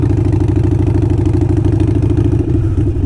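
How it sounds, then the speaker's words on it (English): A warmed-up Harley-Davidson Sportster 48 with Kinetic 540 Laterals exhaust idles close by, a loud, steady low throb of rapid even pulses with a slight mechanical rattle, and no voices. "see that idle sound after it's warmed up?"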